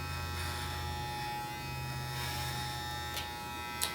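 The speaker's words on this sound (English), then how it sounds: "connecting our sides with our clipper over comb technique" Electric hair clippers buzzing steadily up close as they cut hair with the clipper-over-comb technique, a constant motor hum with a few brief snips of contact, no talking.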